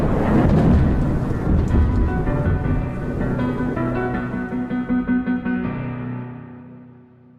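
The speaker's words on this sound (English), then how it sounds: "thunder continued to cry out like a madman. The wind tried to blow everything away, and the rain continued its onslaught" A thunderstorm with heavy rain, deep rolling thunder rumbling loudly over steady rainfall, with a fluttering burst midway before the storm fades out.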